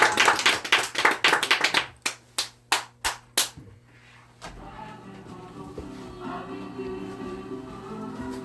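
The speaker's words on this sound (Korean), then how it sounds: "하나님께 영광의 박수." A church congregation claps in praise after a prayer: a dense burst of many hands for about two seconds, then five separate loud claps, fading into a low murmur of room noise.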